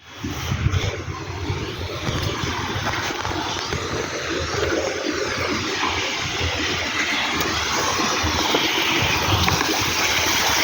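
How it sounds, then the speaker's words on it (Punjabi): Water gushes steadily from a newly fitted water tank supply line, a continuous rushing flow that holds even and fairly loud for the whole stretch, with no talking. "ਟੈਂਕੀ ਦੀ ਫਿਟਿੰਗ ਕੰਪਲੀਟ ਹੋ ਗਈ ਆਪਣੀ ਪਾਣੀ ਹੈ ਆ ਗਿਆ"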